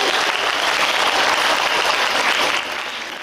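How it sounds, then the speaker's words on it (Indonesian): Audience applause at an evening solidarity gathering for Palestine, a dense, loud wash of clapping that holds steady and eases slightly toward the end. "Dan beri tepukan kepada diri Anda sendiri pada malam ini."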